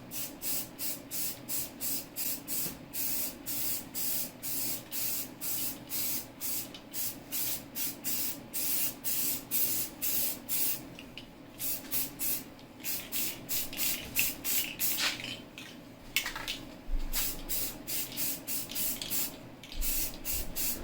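Primer sprayed onto Pontiac Fiero engine parts from a can, a close, steady hiss broken into rapid, even pulses that run without pause for about twenty seconds.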